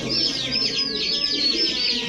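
A silver male pigeon coos in a repeated warbling pattern, close and fairly clear, with soft background noise and no talking.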